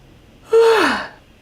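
A person lets out a single deep yawn, a breathy intake rising into a sustained, falling tone lasting about half a second, close and fairly loud against a quiet room.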